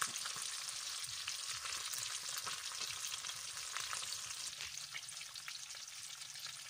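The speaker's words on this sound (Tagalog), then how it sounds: "Pero ano, hindi pa naluto yung piniprito ko." Sapsap fish fries in a pan of oil, a soft continuous sizzle and crackle with scattered pops, fairly quiet and steady with no talking.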